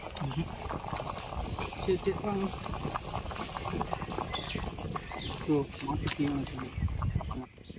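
Country crab soup bubbling at a rolling boil in a cooking pot, with dense irregular bursting bubbles and popping under a voice talking nearby.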